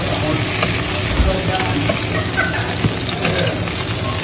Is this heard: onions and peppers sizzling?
yes